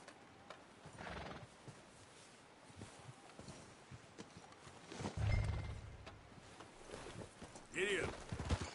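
A horse in Red Dead Redemption 2 whinnies and neighs amid clip-clopping hooves, with distant gunfire and a voice speaking at times, close and fairly loud.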